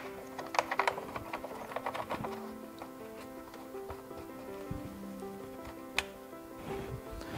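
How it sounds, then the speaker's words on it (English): Plastic nuts being screwed back onto a SAAB 9-5 New Generation reverse light housing, heard as small scattered clicks, light taps and faint squeaks close by over a steady hum. "And then start screwing the plastic nuts back."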